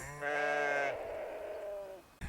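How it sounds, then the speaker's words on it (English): A sheep in a field beyond a stone wall on a West Yorkshire country walk gives one long, loud, wavering bleat lasting about two seconds, close and clear, alone without talk. "we've got a load of sheep, and every time I talk, they make a noise"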